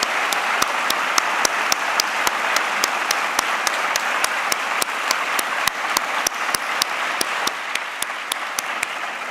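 Audience at a world cultural festival gives a round of applause, heard as sparse, distinct individual claps spaced fairly evenly over a continuous crowd murmur.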